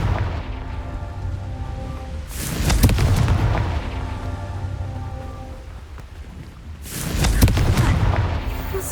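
In the Hogwarts Legacy video game, a Confringo blasting spell sets off two heavy booming explosions a few seconds apart, each rumbling out over a hissing, rain-like background.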